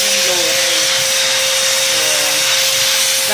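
A steady, loud blower roars continuously with a constant whine, running without pause throughout.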